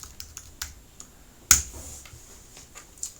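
Keys tapped on a computer keyboard while entering a serverless deploy command, a sparse run of light clicks with one sharper, louder keystroke midway, close and clear with no talking.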